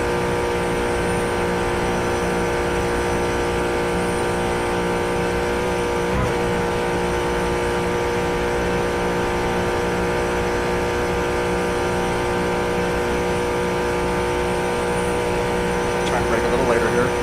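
GT4 race car engine in the iRacing sim, a steady droning hum held at a constant pitch through the whole stretch, with a faint tonal shift near the end.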